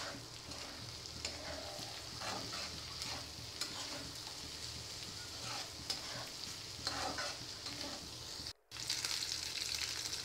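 A spoon stirs a vegetable fry with fresh coriander leaves in a pan, giving a soft continuous sizzle broken by repeated scraping strokes, close and fairly quiet, with a brief cut near the end.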